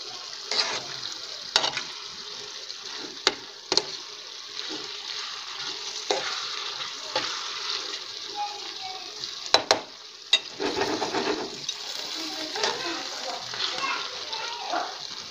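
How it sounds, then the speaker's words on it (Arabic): A potato filling is stirred and fried in a pan, with a soft sizzle and repeated scraping and clanking strokes of a utensil, while someone talks over it. "دابا غادي نحركوها مزيان غير تخلطوا لينا"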